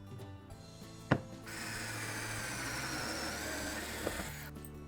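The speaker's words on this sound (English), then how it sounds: "It's a handy little drill, that." A small hand drill bores holes in timber. A steady grinding whir runs for about two and a half seconds, close and moderately loud, with a few sharp knocks before and after.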